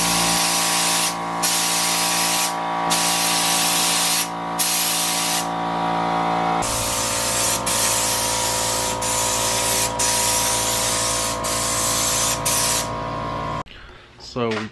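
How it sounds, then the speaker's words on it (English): A spray gun lays coats of primer onto a masked-off car, a steady loud hissing spray broken by short pauses between passes, with a clunk and handling noise at the very end. "we just finished spraying like 2 coats of primer on"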